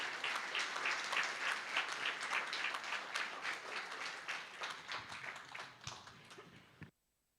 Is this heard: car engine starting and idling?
no